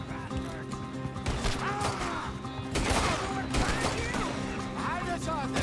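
Gunshots crack in a Red Dead Redemption 2 shootout, irregular loud bursts layered over game ambience and shouting voices.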